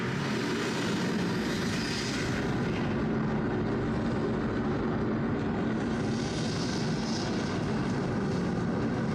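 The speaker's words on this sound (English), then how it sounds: "Automatic countdown sequence has started. T-minus 7, 6, 5, 4, 3, 2, 1, ignition." A simulated rocket launch at a space center gives a continuous, loud, broadband engine roar that holds steady throughout, with a dense rushing texture and no pauses.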